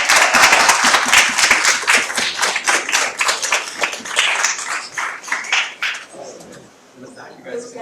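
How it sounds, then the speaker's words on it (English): Dense, energetic clapping from an audience at a regular council meeting with parents present, loud and continuous for about six seconds before thinning out into scattered claps and quiet room noise. "let's give one more round of applause"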